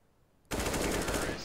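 A sudden loud burst of automatic gunfire in a Counter-Strike match, sustained rapid shots after a brief quiet start.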